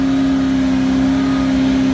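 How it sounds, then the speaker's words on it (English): A 430-horsepower Corvette engine driving the MegaBots Mark III giant robot at Maker Faire Bay Area 2017 gives a loud, steady, droning hum that holds constant throughout with no speech. "Corvette engine powering this thing."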